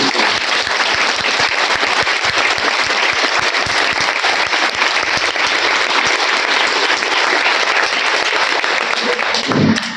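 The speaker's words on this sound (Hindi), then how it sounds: "प्लीज दुनिया के लिए ताली बजाइए, आज मम्मी पापा के लिए बजाओ" Sustained audience applause filling a hall, loud and steady throughout with a dense wash of clapping hands.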